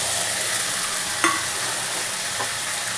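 Spices and boiled potatoes fry in a pan for dhokar dalna, giving a continuous close sizzle with a single metallic clink partway through.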